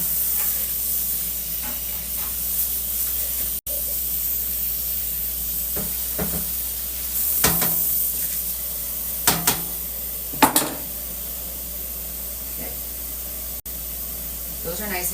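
Water sprays steadily from a kitchen tap while leeks are rinsed, a constant close hiss with occasional clatters of a bowl and pans and some talk in the room.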